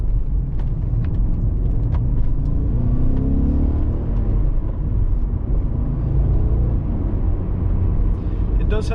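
A BMW E39 M5 being driven gives a steady, low engine rumble and road drone from inside the cabin, holding even throughout with no sharp revs.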